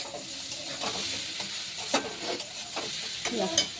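Food frying and being stirred in a pan on a home stove: a steady close sizzle with repeated scraping strokes of a spatula and a few sharper clacks, no talking.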